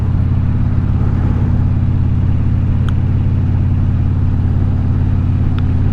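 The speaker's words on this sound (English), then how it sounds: "Love them big-tailed Porsches." A Porsche sports car drives along with a loud steady engine rumble and road drone heard from inside, with a couple of faint ticks over the constant low roar.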